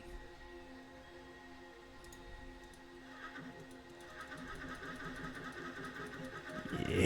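Horse neighing in the video game The Elder Scrolls II: Daggerfall: a faint whinny rising over quiet hoof clip-clops, growing louder toward the end.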